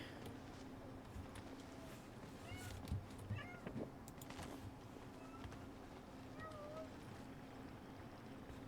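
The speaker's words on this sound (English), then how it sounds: "Please tell me you could hear that meowing." A cat meows faintly several times, short rising calls spread across a steady low hum and background noise.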